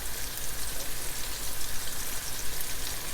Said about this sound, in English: I'm gonna be frying it till it's brown, golden brown, but not burnt